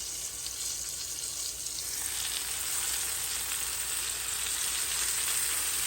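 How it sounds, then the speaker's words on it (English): Chicken pieces seasoned with salt browning in a frying pan for a Marry Me chicken dish, giving a steady close sizzle and crackle of hot oil that builds slightly and continues without pause. "we're going to let this brown about 2 or 3 minutes on each side"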